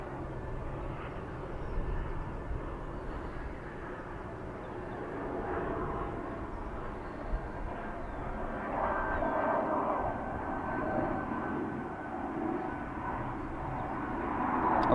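An airliner arrives from Madrid at Dublin Airport, its engines a faint, distant steady rumble and hiss that swells gently toward the end.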